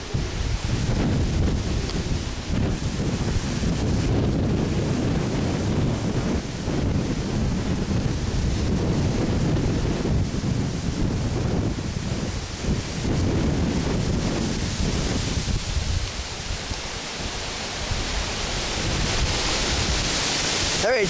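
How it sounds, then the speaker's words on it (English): Strong, gusty wind during the aftermath of Hurricane Irene buffets the microphone outdoors in a steady, loud roar, with a low rumble that swells and eases for the whole stretch. "Yeah, you can see it's very windy out."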